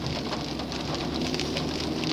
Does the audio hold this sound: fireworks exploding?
no